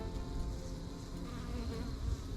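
Honey bees buzz densely around a homestead hive, a steady, close, many-layered drone with wingbeat pulses that swell and fade as individual bees pass near, no talk.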